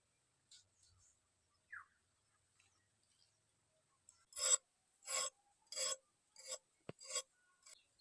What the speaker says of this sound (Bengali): সবগুলো এইভাবে করে কেটে নেব।